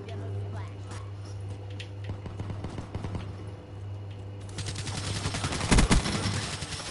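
Gunfire in the video game Black Ops 3 on the Metro map, a run of close shots over a steady low hum, with speech on and off throughout and a denser, louder burst near the end.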